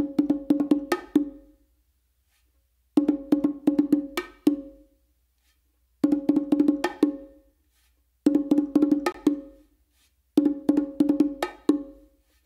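Bongos play the same short combination five times, each pass a quick cluster of sharp slaps and tones ending in a rapid stuttering flourish, with silent gaps between passes, close and clear.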